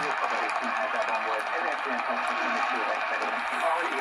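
An ATS-20+ portable radio receiver gives off a steady broadband hiss with a weak signal and interference from nearby lighting, a dense, constant noise filling the whole stretch.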